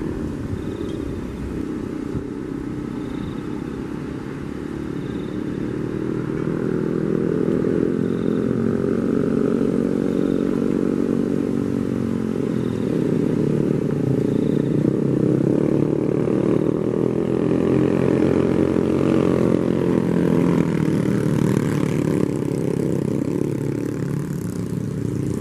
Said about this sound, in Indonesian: ketemu pengantar box girder atau mesin transporter mengangkut box girder untuk pemasangan box girder di jembatan layang ke-23.